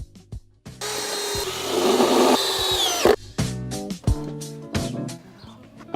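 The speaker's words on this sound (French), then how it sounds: "Maintenant, je vais commencer à visser." A power drill drives screws into wooden boards of a terrace vegetable planter, a loud buzzing whir lasting over two seconds, followed by clicks, knocks and short bursts of the drill, close up and without speech.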